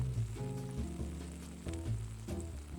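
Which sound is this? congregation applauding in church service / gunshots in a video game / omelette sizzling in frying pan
omelette sizzling in frying pan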